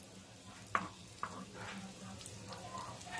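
Chopped garlic sautés over low heat in melted butter, a soft, quiet sizzle with a few scattered stirring clicks and light scrapes of a utensil against the pan.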